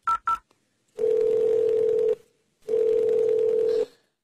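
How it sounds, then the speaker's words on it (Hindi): Two quick phone keypad tones, then two long steady dial-type tones separated by a short gap, as a telephone number is dialed to call a son; clean and close with no talking. "मैं अभी अपने बेटे को फोन करती हूँ"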